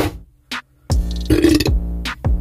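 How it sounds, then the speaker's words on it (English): A loud, close burp rumbles out in a few deep guttural bursts between short gaps. "had a burp"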